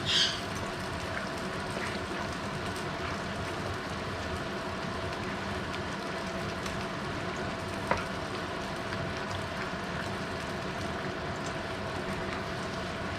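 Shepherd's pie filling sizzles steadily in a pan as it is mixed around, a dense, even crackle with a low fan hum underneath and one sharp scrape of the utensil partway through.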